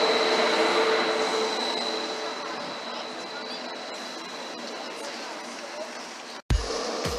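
An ICE train at Hamburg Hauptbahnhof rumbles through the station with a steady, loud broadband roar and a thin high whine, holding for several seconds before cutting off abruptly.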